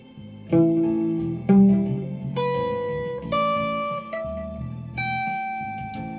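Single guitar notes plucked one after another, five or six clear tones stepping upward, each ringing out and fading before the next.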